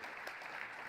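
A short burst of dense audience applause for an Ontario finance minister at a formal speaking event, steady and moderately loud with no talk.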